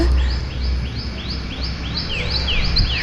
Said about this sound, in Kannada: ಬರೀ ಹಕ್ಕಿಗಳ ಶಬ್ದ ಜಾಸ್ತಿ ಕೇಳಿಸ್ತದೆ ನನಗೆ